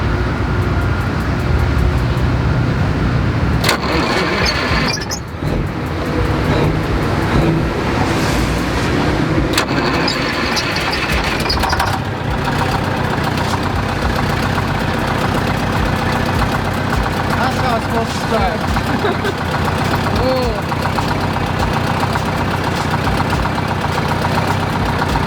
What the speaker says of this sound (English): then we get the bus running.